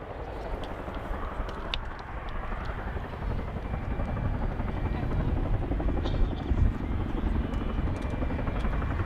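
Chinook helicopter flying across the display area at the Royal International Air Tattoo air show, a loud steady rotor thump and engine roar that swells slightly as it passes, with a commentator talking over it.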